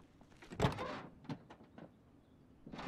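A car door in Project Zomboid opens with a short mechanical clunk, followed by a few lighter knocks and rattles that sound close by, with no voices.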